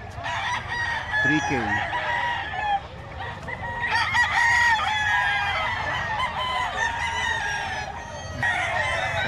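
Gamecocks for sale at the Bocaue pet market crow and cluck repeatedly at close range, several birds overlapping over a busy background, with someone speaking briefly among them.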